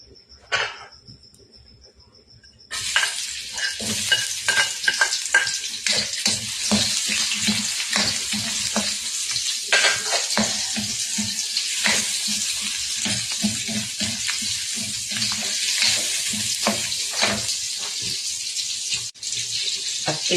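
Food fries in hot cooking oil in a home kitchen, a dense, steady sizzle that starts abruptly after a quiet moment and crackles continuously, close and loud.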